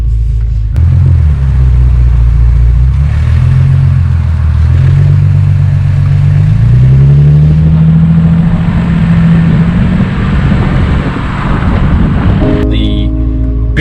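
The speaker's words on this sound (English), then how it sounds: "let's fire up some cylinders. What is this, a W12?" A Bentley Continental GT W12 in full Mulliner spec cranks and fires, then a loud, close deep rumble rises and falls as the engine is revved repeatedly before cutting off near the end.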